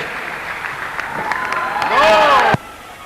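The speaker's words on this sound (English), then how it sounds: "How about a big round of applause here for Paul and Nathan?" Crowd applause with whoops and cheers at a ring event greets Paul and Nathan. It swells steadily to a loud peak and then cuts off abruptly near the end.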